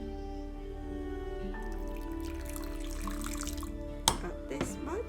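Hot water poured slowly from a common kitchen utensil into a bowl for matcha, a thin steady trickle and splash running several seconds, with a couple of sharper clinks near the end.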